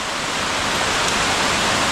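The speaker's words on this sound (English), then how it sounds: "There's a waterfall back here." A forest waterfall along an overgrown former road, a constant broadband rushing roar of falling water, steady and close with no talk.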